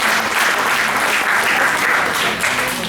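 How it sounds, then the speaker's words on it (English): An audience gives loud, sustained applause for children performing a Sanskrit play about Krishna and Sudama, a thick, steady roar of clapping close by throughout. "let's give a big round of applause and cheer to kids"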